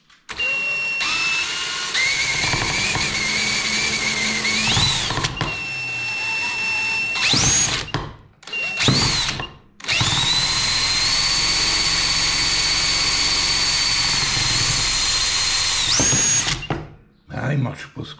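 A homemade four-magnet electric generator spins up with a loud, high motor whine that rises in pitch, cuts out and restarts in several bursts, with short silent gaps between runs.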